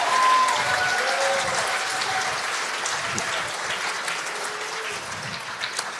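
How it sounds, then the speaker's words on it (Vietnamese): Sustained applause from a standing church congregation at a revival conference, steady dense clapping that gradually softens, with faint tones sounding briefly underneath. "Hãy cùng đứng lên vỗ tay ngợi khen Chúa với tôi, quý vị."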